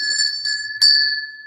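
Bright bell chimes ring out three times in quick succession during a live sale broadcast, each a clear, sustained ding, with the last left ringing and fading, and no talk over them.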